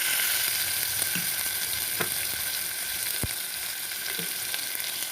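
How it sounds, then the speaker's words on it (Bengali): Ginger garlic paste frying in hot oil with whole spices that have browned, a steady close sizzle with a few soft stirring knocks. "এখানে আমি আদা রসুনের পেস্ট দিয়ে দেবো।"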